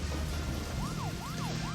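Police sirens wail in the Deadly Premonition video game, a repeating rising-and-falling tone cycling three times over a dense background rumble.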